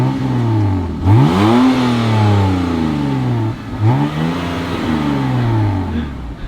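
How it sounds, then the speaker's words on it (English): A BMW 128i with a manual gearbox and muffler-delete exhaust revs hard twice, the engine note climbing and falling back to a throaty idle, loud and close with a raspy exhaust tone. "Give me a little rev, a little something."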